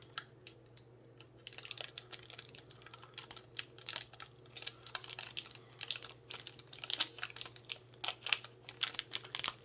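A Magic the Gathering Streets of New Capenna collector booster pack wrapper being torn open, close crinkling and sharp tearing crackles in a quick irregular stream over a faint steady hum.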